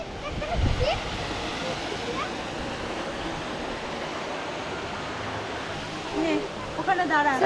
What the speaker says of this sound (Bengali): খুব সুন্দর ফলস এই চৈত্র মাসেও জল দেখুন বেশ বেশ কিছুটা জল নামছে ওপর থেকে